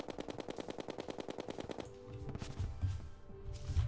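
In the Terraria video game, the Mega Shark gun fires rapidly in a fast, even burst of shots lasting almost two seconds, then gives way to rumbling in-game impacts and effects.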